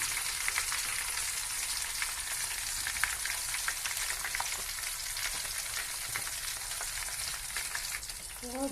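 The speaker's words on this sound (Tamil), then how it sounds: "பாருங்கள் பச்சை போடக்குள்ள எப்படி பொங்கி வருதுன்னு" Homemade herbal oil with fresh green herbs added bubbles and sizzles over a low flame, a dense, continuous frying hiss dotted with small crackles and pops, close and steady with no talking.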